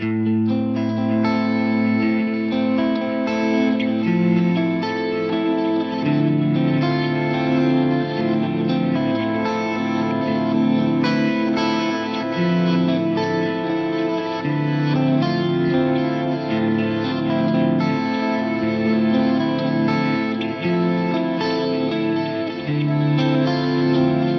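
Electric guitar strumming chords continuously, drenched in reverb and echoing delay that blur each chord into the next; no voices.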